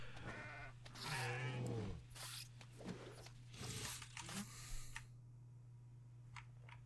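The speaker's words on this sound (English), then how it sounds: "He's not having any problems just absolutely slaying the goats." Goats bleat while being slaughtered in combat in the video game Kenshi: a few strained animal cries in the first seconds over a steady low game hum, followed by scattered clicks and thuds of fighting.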